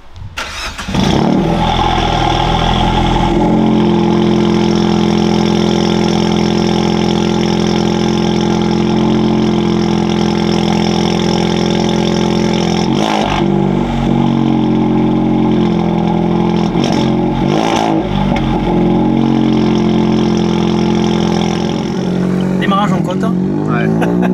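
A loud, raspy engine of a stage 2 tuned 2023 Suzuki Swift Sport mild hybrid, without a catalytic converter, starts and idles with a rough, throaty rumble, a few sharp revs blipping over it, with people talking nearby.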